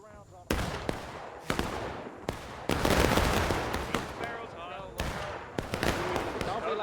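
Musket volleys ring out in the War of Rights game's Civil War battle at Flemmings Meadow, sharp cracks and broadband bursts repeating irregularly over a steady din of distant fire, with shouting voices mixed in.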